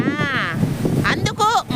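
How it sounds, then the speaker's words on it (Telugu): Strong wind buffets a microphone outdoors, giving a constant low rumbling roar under a voice that speaks throughout. "గాలి."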